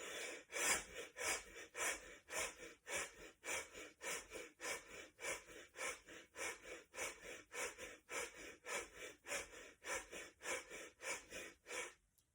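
Deep rhythmic breathing during a breathing exercise, about twenty strong breaths in a steady, fast cycle, close and alone.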